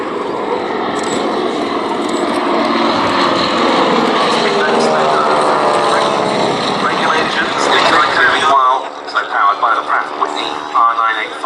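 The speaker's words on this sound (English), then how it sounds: "it's the Staggerwing and the Executive that now running in front of us" Beechcraft Staggerwing and Executive aircraft engines run at the Duxford VE Day Air Show 2015, a loud droning, buzzing piston roar that carries steadily under an announcer's voice before dropping away abruptly near the end.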